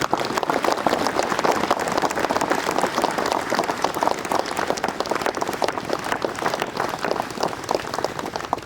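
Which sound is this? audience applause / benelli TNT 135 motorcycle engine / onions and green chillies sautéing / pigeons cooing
audience applause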